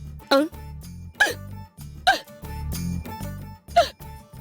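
Someone hiccups four times, each a sharp, close gulp, with brief vocal sounds in between.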